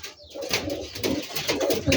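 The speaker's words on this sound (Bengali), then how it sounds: "আরো দুটো অসাধারণ কবুতর বের করে আসছে।" Giribaj pigeons coo close by in a series of soft, low, throaty calls repeating every half second or so.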